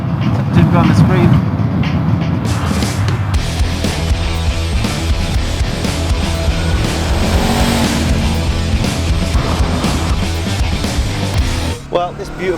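A 2019 Honda CBR500R is ridden on the road, its engine droning loud and continuous under heavy wind rush, steady for most of the stretch before easing off at the very end.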